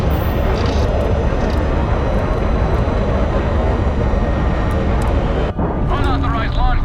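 A spaceship in Starfield roars during an unauthorized launch, a loud, dense, continuous engine rumble that cuts off sharply near the end, followed by a voice speaking.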